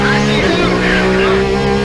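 Race cars in a racing game at Monza, a Ferrari closing on a Porsche, engines roaring loud and continuous with rising and falling pitch sweeps, a voice talking over the top.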